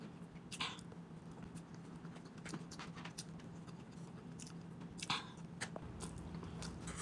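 Soft, close chewing and crunching as someone eats food slowly, with irregular bites and mouth clicks over a quiet background and no talking.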